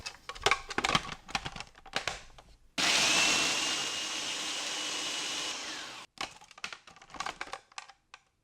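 A food processor grinds Oreo cookies into crumbs with a loud, steady whirring roar lasting about three seconds, framed by light tapping and handling clatter before and after.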